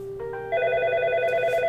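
A softphone extension places a call into a FreePBX queue, producing steady electronic ringback tones that step up and layer into a sustained multi-tone ring, clear and alone with no talking.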